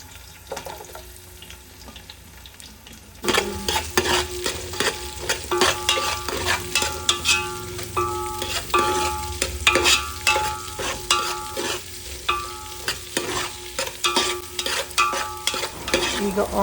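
Onion frying in oil in a home kitchen, starting quiet, then breaking into loud sizzling with repeated clinking stirs of a utensil against the pan, no talking.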